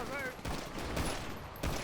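Gunfire breaks out in GTA RP on the NoPixel server, a burst of several sharp shots in quick succession, moderately loud, with faint voices underneath.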